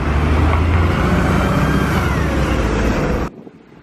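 Traffic moves off from a junction as the light turns green, a close, loud rumble of car engines that continues evenly and then cuts off abruptly near the end.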